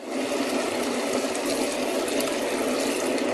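Water poured into a pan of garlic and onion risotto rice, a continuous, even rush of liquid close up that holds steady at the same volume from start to finish.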